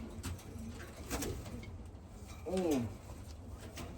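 In a loft full of young birds, a single soft pigeon coo rises once over a quiet background hum, with no one talking.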